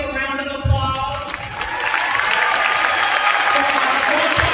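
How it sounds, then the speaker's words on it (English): An audience at an eighth-grade school promotion ceremony bursts into applause and cheering that builds from a speaker's voice into a loud, steady wash of clapping. "You all give a round of applause"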